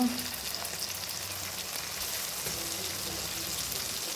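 Green peas stirred into frying masala for a cauliflower roast, a steady close sizzle with faint scraping of stirring running throughout, no voices.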